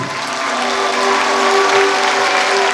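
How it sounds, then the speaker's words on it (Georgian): Audience at a solo concert by a choreographic dance ensemble applauding, a loud, dense, even burst of clapping from a large crowd. "დავიდასტურეთ თქვენი აპლოდისმენტები"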